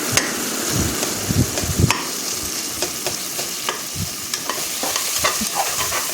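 Food sizzles steadily in a hot pan while a utensil scrapes and taps against it at irregular intervals, close and continuous.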